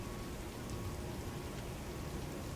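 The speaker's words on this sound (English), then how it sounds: "It's raining." Steady rain patters outside a Delta airliner cockpit on a flight to Detroit, an even, continuous hiss of drops that fills the whole stretch with no gaps and no voices.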